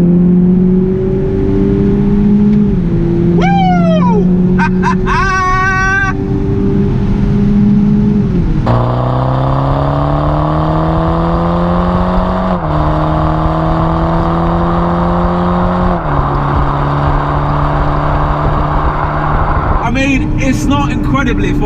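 A 2019 BMW Z4 G29 with a 2-litre four-cylinder engine revs hard at full throttle, climbing in pitch through several gear changes, with a few quick exhaust pops, loud and close throughout.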